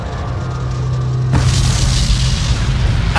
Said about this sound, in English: Ah, we got our explosion too.